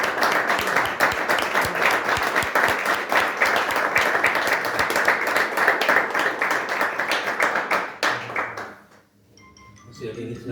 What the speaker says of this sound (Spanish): un aplauso para Pepe, que vino.